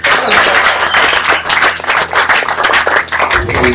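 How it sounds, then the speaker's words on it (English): An audience at a community forum applauds loudly and steadily, with dense clapping for a few seconds and no voices heard over it. "A lot of applause for him."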